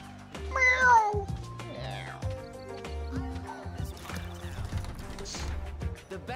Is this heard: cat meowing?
yes